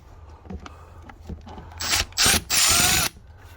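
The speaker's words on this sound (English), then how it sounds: "we're going to take our E10 and go back in after that other bolt" Ratchet with an E10 socket loosening a thermostat housing bolt on a 2011-2019 Chevrolet Cruze 1.4 liter engine: faint clicks at first, then three loud bursts of rapid pawl ratcheting close by.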